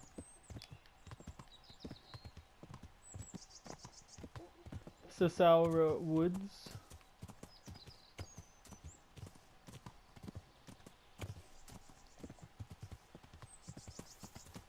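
Steady clip-clop of hooves trotting in an even rhythm in the video game Kingdom Come: Deliverance, with a brief horse whinny midway and a voice speaking quietly.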